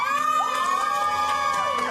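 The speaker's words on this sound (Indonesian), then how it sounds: "Gue mau kasih tepuk tangan untuk wardrobe." A studio audience on an Indonesian TV variety show cheers and applauds, a continuous dense crowd roar with whoops over it, loud and sustained.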